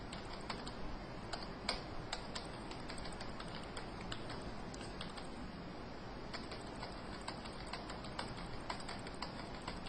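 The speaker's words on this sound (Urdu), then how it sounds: "Random numbers English, math, science, کوئی بھی اپنی مرضی سے آپ ٹائپ کر دیں۔" Rapid, steady clicking of a computer keyboard while numbers are typed into an Excel spreadsheet, close and continuous over a low background hiss, with no speech.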